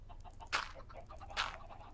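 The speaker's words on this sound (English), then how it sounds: "you can see we have quite a few chickens in there already" Chickens in a Minecraft farm cluck twice in quick succession, short clear bursts over a faint low background hum, no talking.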